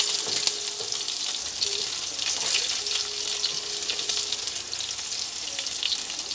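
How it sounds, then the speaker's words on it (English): Sausages frying in straight butter in a pan give a steady, close hiss and crackle with small popping spatters, continuous and alone without any talk. "Just cook them in butter and that's it."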